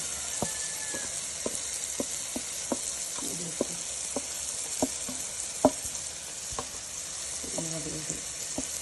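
Onion and garlic paste with chili and spices frying for chicken biryani, a constant hiss of oil under scattered clinks and scrapes of stirring, fairly quiet and close.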